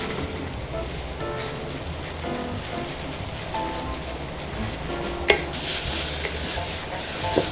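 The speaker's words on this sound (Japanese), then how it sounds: "ズッキーニの花ですね加えます。 一気に入れます。 で一緒に炒めていきます。" Zucchini flowers are stir-fried in a pan, a steady close sizzle with repeated scraping and stirring strokes and a sharp clank near the end.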